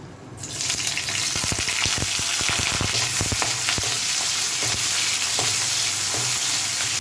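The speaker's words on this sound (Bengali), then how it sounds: "আমি এখানে শুকনো লঙ্কা প্রথমে দিয়ে দিলাম। এবার দিয়ে দিব পেঁয়াজ।" Dried red chilli and onion hit hot oil with a sudden loud burst of sizzling that settles into a dense, continuous fry, broken by sharp crackles and spatula scrapes, close and with no voices.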